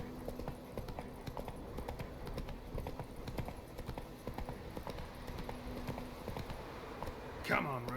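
Roach the horse trots in The Witcher 3, hooves clip-clopping in a steady rhythm against a faint ambient background, ending with a brief whinny-like sound.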